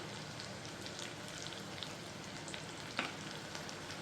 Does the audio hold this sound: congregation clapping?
no